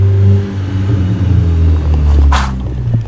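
Honda Civic with an exhaust leak idling very loudly, a deep, heavy rumbling drone held steady and close, with a brief hissy rasp breaking in near the end.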